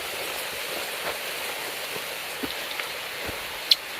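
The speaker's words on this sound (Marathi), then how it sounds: "पाऊस सुरू झालाय" Steady rain falls outdoors near a hillside temple in Devrukh, a soft even hiss of drops on foliage and ground with a few faint isolated taps, moderately quiet and continuous with no voices.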